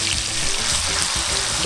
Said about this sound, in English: So let's stir fry this until it starts to smell really fragrant.